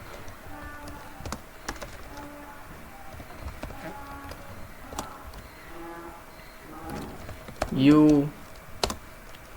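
Computer keyboard clattering as Python code is typed, quick irregular bursts of close key clicks with short pauses, under someone talking intermittently.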